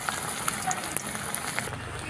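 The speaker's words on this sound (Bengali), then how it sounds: "তেল গরম হয়ে গেছে, এক এক করে চপগুলো তেলের মধ্যে দিয়ে দেব।" Coriander leaf chops for a vegetarian Bengali snack go one by one into hot oil in a kadai, giving a continuous hissing sizzle with a few scattered crisp pops and clicks.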